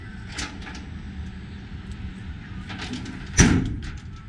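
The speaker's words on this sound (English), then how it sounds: "I'm not going to open all of the doors, but I'll open up a couple here so everybody can see." A metal compartment door on a Knapheide service body fitted to a 2006 Ford F-550 Super Duty XL opens with one sharp latch clunk near the end, over steady outdoor background noise.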